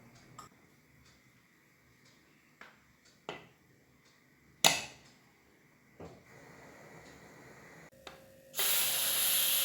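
A pressure cooker of chicken curry vents near the end as a loud, sustained steam hiss and whistle that bursts in abruptly after a stretch of scattered kitchen clicks and knocks.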